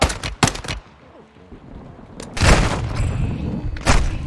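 Gunfire in Modern Warfare 2 during a firefight against armored enemies: sharp, loud shots crack at the start, followed by a lull and then sustained heavy bursts of automatic fire, close and punchy, with no talking.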